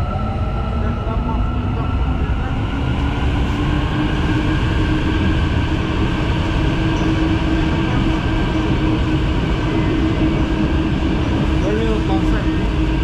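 An Istanbul metro train rumbles steadily throughout, loud and close, with a constant mechanical drone and faint rising whine as it travels.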